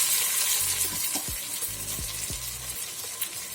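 Prawn biryani masala frying steadily in a pan, a continuous close sizzle with occasional stirring scrapes and no voices.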